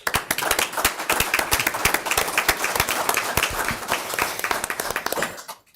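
Clapping in a room at a school district governing board meeting after a vote, a dense, steady round of applause from several people, fairly close and continuing without talk before tapering off at the end.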